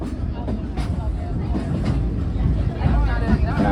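Steady rumbling steam train noise on a park ride in the Ozarks, with a rolling rhythm of wheels on track, while a crowd murmurs and chatters throughout.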